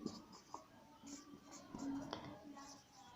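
Marker or chalk scratching across a classroom board in short strokes and taps, faint and close, with quiet speech and a little background noise underneath.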